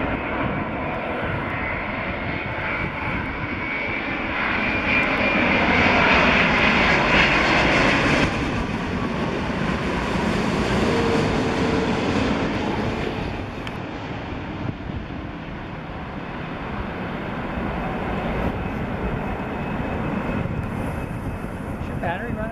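British Airways Boeing 787-8 airliner arriving at Philadelphia airport, a loud broad engine roar that swells as it passes overhead and slowly fades, with people talking nearby.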